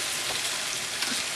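Chicken crisping for a ginger and lemon dish in a pan of high smoke point cooking oil, a steady close sizzle and hiss of frying with no pauses.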